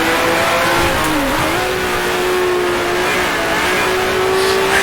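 A 1966 Formula One race car engine screams at high revs around Monza in Grand Prix Legends, a loud, sustained onboard wail that dips briefly with a gear change and then climbs again.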